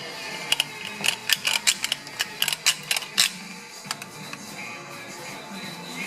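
A caulking gun ratchets in a run of sharp, closely spaced clicks as it lays a glue bead into the groove of a 2013-14 Ford Fusion spoiler, then the clicking trails off into quiet room noise.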